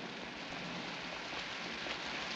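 Heavy rain hisses in a dense, steady wash, loud and continuous with no voices.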